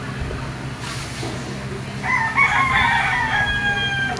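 A young stag rooster, about six and a half months old, crows loudly nearby, a drawn-out call rising over steady background noise and low rumble.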